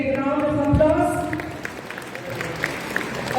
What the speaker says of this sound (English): With your big round of applause,